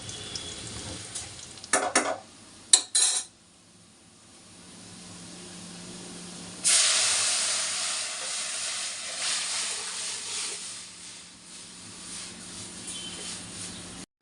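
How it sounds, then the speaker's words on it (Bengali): Chopped garlic and onion dropped into hot oil to temper dal: a few clattering knocks give way to a loud burst of sizzling that then hisses steadily and slowly fades, with no speech. "এখানে আমি কিছু রসুন কুচি আর পেঁয়াজ কুচি দিয়ে এখন ডালটাকে বাগার দিব"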